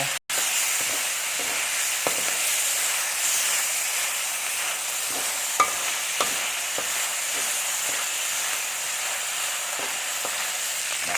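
Eggplant and minced pork stir-frying in a hot pan, a steady broadband sizzle running throughout with faint scraping clicks of stirring, close and even, no voices.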